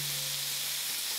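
Meat frying in a pan over medium-low heat for Korean barbecue, a soft steady sizzle with a faint hum that lasts only a brief moment.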